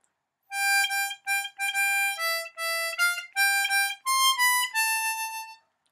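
A diatonic harmonica in C plays the first verse melody of a song, with clear sustained reedy notes in short phrases separated by brief breaths, solo and close.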